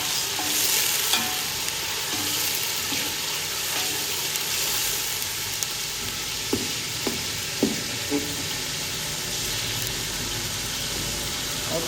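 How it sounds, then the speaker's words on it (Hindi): About four spoons of ginger garlic paste frying with softened onions in a pan, for restaurant-style chicken chana made with a kilo of chickpeas: a continuous close sizzle with occasional light scraping and clicks, no talking. "अब इसमें डालेंगे अदरक लहसुन का पेस्ट, तकरीबन 4 चम्मच"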